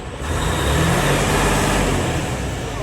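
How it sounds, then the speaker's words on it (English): Truck engine held at raised revs in the cab to build air pressure, a loud steady droning roar close by with no voices. "I'm holding my gas pedal. My compressor is building the air a little faster."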